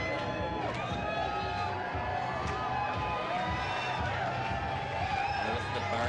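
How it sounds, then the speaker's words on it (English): Crowd at the 1991 Los Angeles Pride parade, a steady outdoor roar of cheers, whoops and chatter from many people with scattered shrill calls throughout. "Notice the barking approval of the crowd."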